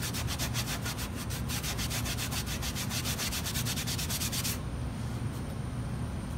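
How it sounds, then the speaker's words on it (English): Dry sawdust is worked into wet wood glue on a wooden joint, making a steady, close scrubbing and rubbing sound with a fast repetitive texture that runs without pause and with no talking. "you just keep working the dry dust into the wet glue, forcing it in there"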